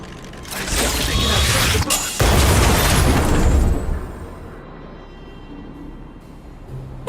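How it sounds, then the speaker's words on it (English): A stealth bomb set off by an automaton in Honkai Star Rail erupts into a loud, sustained explosive roar that rumbles for a few seconds before fading into a quieter ambient tail. "We wiped them all out in a single explosion!"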